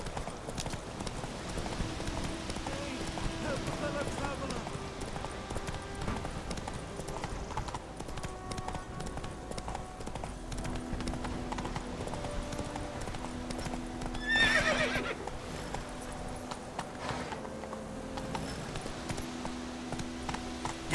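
Hooves of a horse in The Witcher 3 clip-clop at a steady gait throughout, with a brief whinny near the middle over a low tonal game backdrop and little talk.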